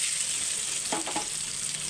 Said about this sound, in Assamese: এতিয়া ইয়াতে পিঁয়াজখিনি দি দিম